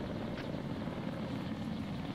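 Helicopter rotor and engine in the Arma 3 military video game, a steady droning whir running continuously at moderate volume with no voices.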